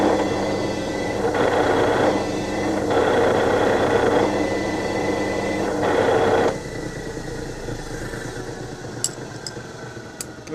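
A lathe drilling a 7.5 mm hole in metal gives a steady loud mechanical whir with tonal hum, pulsing slightly, then dropping to a quieter running drone after about six seconds, with a few faint high ticks near the end.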